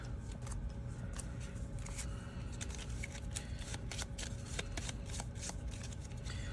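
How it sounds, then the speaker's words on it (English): A deck of game cards is shuffled close up, giving quick riffling bursts and soft flicking clicks that repeat in an uneven rhythm against a low, steady background hum. "I'm going to flip and shuffle 3 in."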